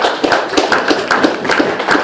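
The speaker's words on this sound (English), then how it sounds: "So another round of applause for AJ, little AJ." An audience at a roast claps briefly for a new baby boy, giving a short, fairly loud burst of rhythmic hand claps that runs steadily throughout.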